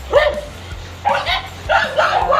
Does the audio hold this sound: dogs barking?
yes